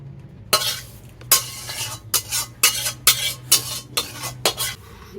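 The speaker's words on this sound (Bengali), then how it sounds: "আমার চিংড়ি মাছের মালাইকারিটাও হয়ে গেছে এবার আমি এটাতে থালায় ঢেলে নিচ্ছি" Prawn malaikari poured from a cooking pot onto a plate, with a series of distinct scraping and clinking strokes of a spoon against metal, close and fairly loud over a steady low hum.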